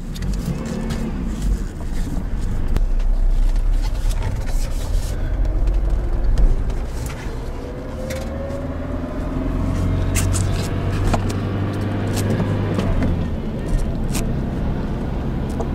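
A 2001 GMC Sonoma pickup with a 2.2L engine, driven with its hood removed, hums steadily with occasional rises in engine pitch, road noise throughout and a few bumps and clicks.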